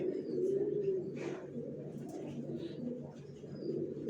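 Racer pigeons cooing in a pigeon loft, a continuous low, soft throaty burble from several birds at close range, with occasional faint wing and movement sounds.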